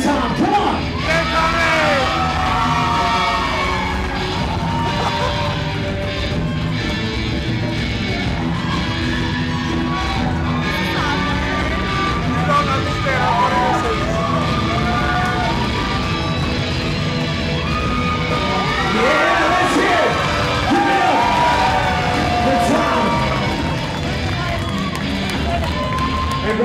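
At a wedding reception garter game, a dense crowd cheers, yells and whoops continuously over loud music, with voices shouting throughout and swelling into bursts of excitement.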